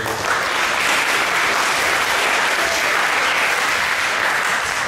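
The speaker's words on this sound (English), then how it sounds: "I'd like everyone to join me, give the audience and the speaker a round of applause." A symposium audience gives a sustained round of applause at a coral reef conference, dense steady clapping filling the whole stretch at even loudness, with no talk over it.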